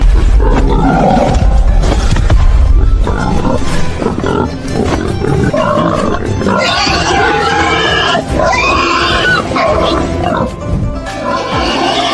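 A strong pig squeals and struggles loudly while breaking free from several people trying to hold it before a banquet, its cries continuous and harsh over a dense, busy background.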